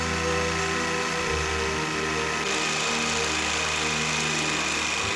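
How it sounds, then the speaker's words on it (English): A jigsaw cuts a wand shape out of a wooden board, its motor giving a loud, steady buzzing drone with fast reciprocating chatter that runs without a break from start to finish. "then I'm going to cut it out using my jigsaw."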